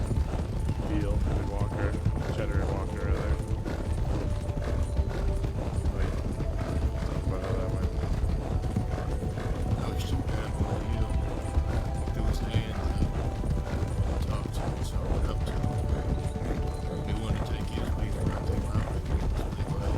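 Horse hooves galloping in a steady clip-clop rhythm in a western roleplay video game, continuous and fairly loud under game music and ambient sound.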